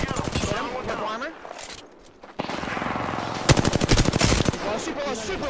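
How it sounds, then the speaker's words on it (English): Automatic weapon fire from the video game Apex Legends, rapid bursts crackling loudly with a brief lull midway, then dense volleys resuming, mixed with game sounds and a player talking over it. "Hey, I'm getting shot."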